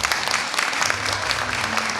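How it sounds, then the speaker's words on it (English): A community event audience claps for a guitarist in a continuous, busy wash of applause from many hands, fairly loud and even, with faint voices mixed in. "So please give him a round of applause."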